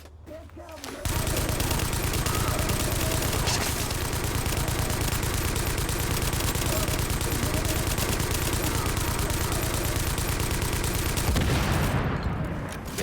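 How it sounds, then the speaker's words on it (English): A deployed automatic turret in The Division firing a long, dense, unbroken stream of rapid gunfire, loud and close, that runs nearly the whole stretch before cutting off, with faint game noise at the edges. "let's put down a turret"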